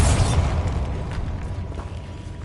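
A Bombarda spell explosion in the video game Hogwarts Legacy, a loud low booming blast that rumbles and slowly fades out over a couple of seconds.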